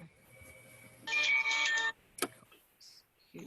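A phone ringtone plays loudly for about a second in the middle, a bright melodic burst standing out against quiet room noise during an online meeting.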